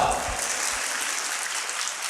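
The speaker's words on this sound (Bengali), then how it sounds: "ওর জন্য একটা করতালি দাও।" Students clapping together in a classroom, a steady burst of applause that carries evenly through the whole moment, with no voices over it.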